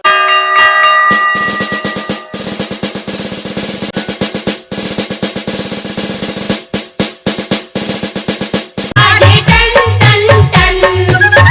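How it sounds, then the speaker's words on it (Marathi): A temple bell rings rapidly and repeatedly during a Jain Panchkalyanak festival, loud and close, with a bright metallic clang that rings on, then shifts into a busier, denser jangle near the end. "मंदिर जी में घंटा बाजे टन"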